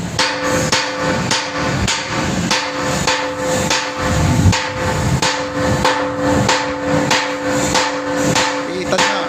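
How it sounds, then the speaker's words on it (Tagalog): Heavy hammer blows strike large, short steel bars to knock the rust off on a construction site. The loud, close, metallic impacts repeat in a steady rhythm of about two per second. "Bukod sa grinder, pinupok-pok pa para sigurado talaga matanggal yung kalawang guys."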